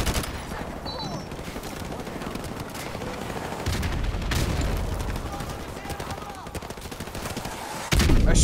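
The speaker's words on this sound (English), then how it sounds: "A shotgun?" Rapid bursts of gunfire from a video game firefight, dense and continuous with louder shotgun-like blasts mixed in and a heavy thump near the end.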